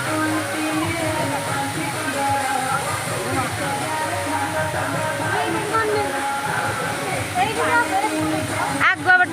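Water pours forcefully down a rocky waterfall in a loud, unbroken rushing roar with sloshing splashes, while someone talks over it throughout.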